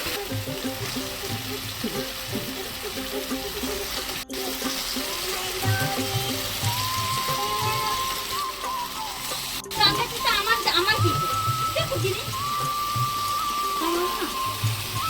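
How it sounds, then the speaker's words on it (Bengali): Country chicken pieces sautéed with turmeric, chili powder and spices in a pan, a steady crackling sizzle running throughout, with a voice talking over it. "এটা সব মশলার সঙ্গে ভালো করে কষিয়ে নেবো"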